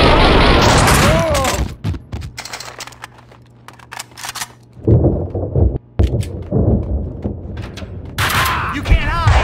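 Gunfire and explosions in the video game Max Payne 2 arrive as loud, dense bursts of shots and booms at the start, drop to a quieter stretch, then erupt again in heavy, overlapping volleys.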